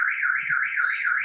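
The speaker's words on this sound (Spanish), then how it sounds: "Déjame apagar la alarma." Electronic alarm going off indoors, a loud continuous warbling siren tone rising and falling in a quick regular cycle, sounding alone without talk.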